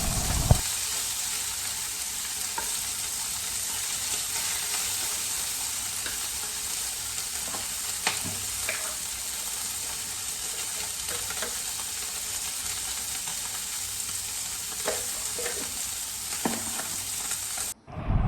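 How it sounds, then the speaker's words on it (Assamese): Small fish, cleaned of their long bones, frying in a pan with a continuous close sizzle and crackle, a few scattered spatters and scrapes, and no talking over it. "তাৰপিছত এয়া ভালদৰে মই ভাজি ল'ম।"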